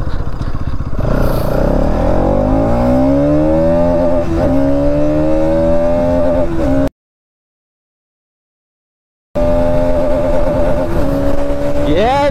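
A Bajaj Pulsar NS200 motorcycle revs hard and accelerates up through the gears, its engine note climbing in pitch, loud and close, then cuts to silence before revving again.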